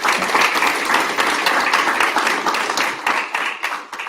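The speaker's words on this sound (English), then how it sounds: "Mark, Sarah, please give them a round of applause." A crowd applauds steadily at the close of an ASPI panel event, dense clapping sustained throughout and fading slightly toward the end.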